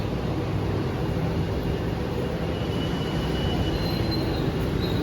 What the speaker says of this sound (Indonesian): ini aku sudah masuk di dalam kereta eksekutif kereta api Belambangan Express